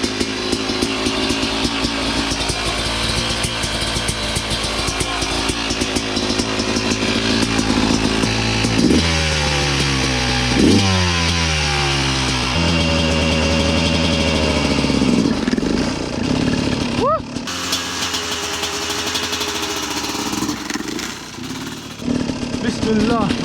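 Yamaha YZ250 two-stroke dirt bike running on fresh premix fuel, a buzzy crackling idle that rises into sharp revving blips and settles back, loud and near, with people talking over it.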